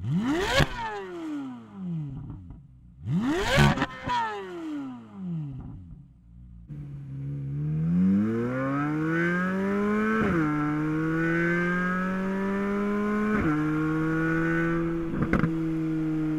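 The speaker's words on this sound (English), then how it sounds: "it sounds just like a Ferrari V8, like the old like 458 V8" New Z06 V8 engine revving in an official teaser recording, loud sharp blips rising and falling twice, then a long sustained climb through the revs with quick shift breaks, heard alone.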